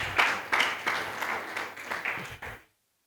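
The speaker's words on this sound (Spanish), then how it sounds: "Dale palmas al que vive y reina para siempre" A church congregation claps hands in rhythmic bursts, several sharp accented claps across a couple of seconds, moderately distant, before the sound cuts off abruptly.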